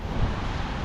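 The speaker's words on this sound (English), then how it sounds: "And very windy." Strong wind gusting across an exposed city street, a steady close rumble and buffeting against the microphone with no voices over it.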